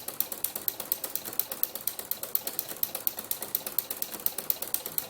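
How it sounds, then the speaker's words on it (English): A sewing machine fitted with a ruffler foot runs at steady speed. Its clicking wheel gives a rapid, regular mechanical ratchet rhythm, close and clear, with no talking. "it's that clicking wheel that gives you a stitch every six stitches"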